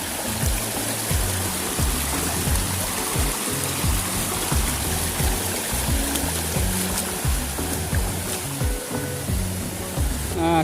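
Steady rushing water of a flowing river in Yaroa, Puerto Plata fills the clip, a continuous broadband wash with a busy, bubbling low end and no talk.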